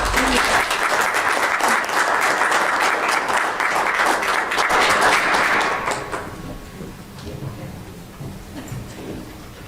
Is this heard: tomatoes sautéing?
no